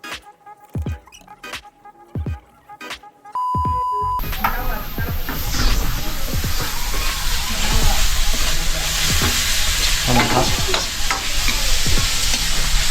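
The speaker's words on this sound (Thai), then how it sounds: "ผัดซอส ซอสซอสอะไร ซอสมะเขือเทศไว้ใส่สปาเกตตี้จ้า" Tomato ketchup sauce for spaghetti is stir-fried in a pan. A few sparse clicks and taps come first, then a loud, continuous close sizzle with scraping stirring takes over for the rest.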